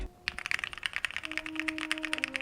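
Rapid typing on a mechanical keyboard with an acrylic case, close and clear, with bright clacky keystrokes in a fast uneven rhythm; a faint tonal hum runs underneath.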